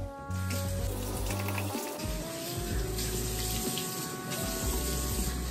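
Tap water runs steadily into a sink, splashing close by with a constant hiss and a brief change in flow partway through.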